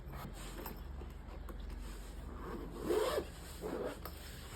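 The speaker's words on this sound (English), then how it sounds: "You can see it has a zipper opening." A zipper on a piano tuning kit case being drawn open, a short soft rasping pull standing out briefly over quiet room tone.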